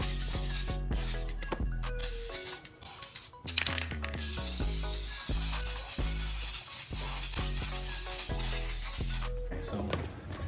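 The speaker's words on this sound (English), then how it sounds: "I'm gonna spray paint these black, let them dry." Steady hissing spray from an aerosol can runs almost continuously beneath background music with sustained tones, with a few brief breaks.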